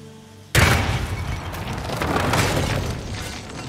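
A propane flask in the video game Hitman blows up when shot, giving one sudden loud boom that rolls into a long rumbling roar and slowly fades.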